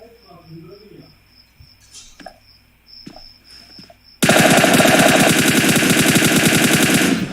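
Sustained automatic gunfire from a scrim match in a video game, starting abruptly after a few quiet seconds of soft sounds and single shots, then a loud continuous rapid burst lasting about three seconds.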